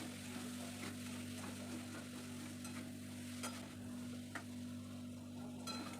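Crushed ginger and garlic frying in a pan, with a faint, steady sizzle and repeated light stirring and scraping strokes.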